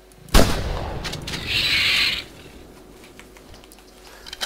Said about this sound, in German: Schieße ich natürlich mit Slug hier gerade.